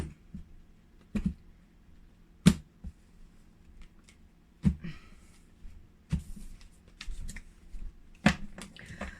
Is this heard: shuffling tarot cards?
yes